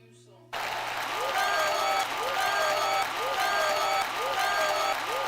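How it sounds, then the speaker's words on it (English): Canned applause sound effect triggered during a live-streamed music and gear hangout, starting abruptly and running as a steady, dense clapping bed that loops in waves, with a faint sustained hum and tonal music underneath. "please trigger the applause"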